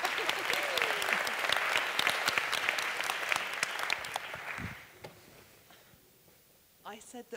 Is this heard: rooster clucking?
no